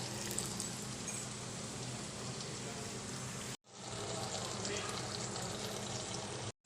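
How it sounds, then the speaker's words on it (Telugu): Chicken fries in a hot clay pot with a dense, loud, continuous sizzle. The sizzle cuts out for a moment partway through, then resumes just as strong. "మంచిగా చికెన్ ఫ్రై అవుతుంది కుండ వేడికి."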